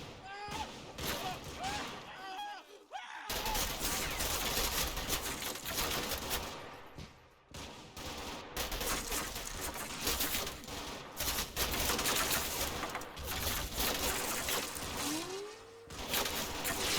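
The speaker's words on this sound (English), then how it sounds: "The Vickers MMGs provide area fire support." Vickers medium machine guns give area fire support in the video game Combat Mission at Monte Cassino, with long, dense stretches of rattling gunfire and scattered distant shots, broken by a few brief lulls.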